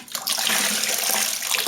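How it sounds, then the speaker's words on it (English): Hot water pours into a Coopers IPA beer kit can to rinse it, a brief loud splashing rush that starts abruptly and stays steady, without any speech. "let's pour some hot water in this to get it all out"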